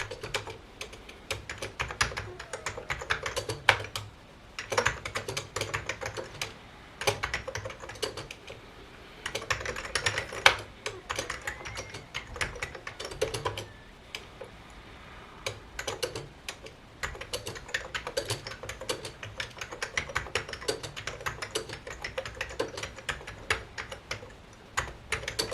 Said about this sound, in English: I'll show you a little bit of typing so you can hear the sound of the keyboard and how mechanical keyboards felt back then